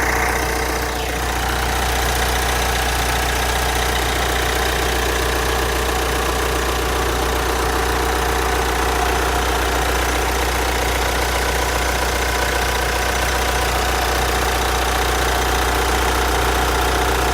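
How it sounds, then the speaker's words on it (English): A 2014 Mitsubishi Triton GLX engine idles steadily under an open bonnet, a close, continuous low rumble with a faint ticking texture that holds loud and even throughout, with no talking. "The car is running, so it will be a little bit noisy."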